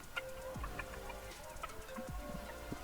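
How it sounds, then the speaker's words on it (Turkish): A rooster gives short calls to the hens while they cluck softly nearby, a quiet farmyard scene with no talking. "Baba horoz çağırıyor, diğerlerini çağırıyor."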